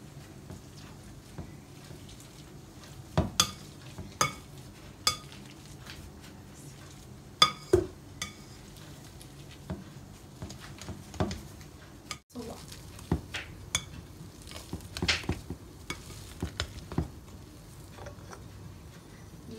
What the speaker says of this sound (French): Et là on va bien écraser les pommes de terre.